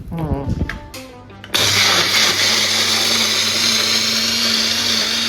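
After a moment of speech, a blender pureeing ripe mango pulp kicks on abruptly and whirs loudly and steadily to the end.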